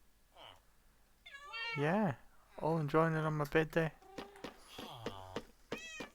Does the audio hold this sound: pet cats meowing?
yes